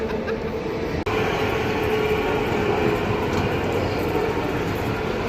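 A train running along the track gives a loud, continuous rumble and rattle heard from inside, with one sharp click near the start.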